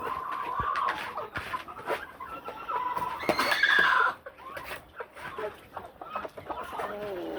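Brahma chickens, a flock of two males and four females, cluck in a steady, irregular chatter, fairly close, with a few sharper calls rising above the murmur.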